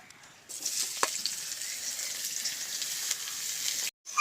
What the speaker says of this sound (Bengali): সব কিছু ভেজে নিয়েছি, এবারে বাঁধাকপিটা ভাজবো।